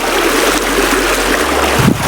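Cold water rushes steadily over stones at an outdoor spot in Pipardi, a dense, continuous wash of flowing water heard up close with no talking.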